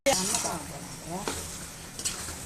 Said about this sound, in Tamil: அதுக்கப்புறம் இந்த கறியை மசாலாவோட நல்லா கலப்பு கலப்பு